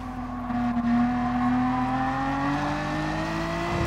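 Group 4 race cars at Brands Hatch in GT Sport give a close, steady engine whine that climbs in pitch as they accelerate. A bunched pack is heard together, with no talk over them.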